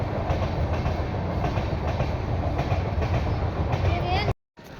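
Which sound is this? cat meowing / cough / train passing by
train passing by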